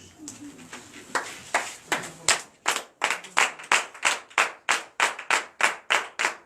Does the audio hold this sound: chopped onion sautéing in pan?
no